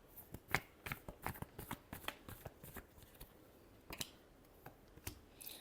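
A deck of cards is shuffled close by in a quick series of crisp riffling and snapping bursts, uneven in rhythm, with no talking over them.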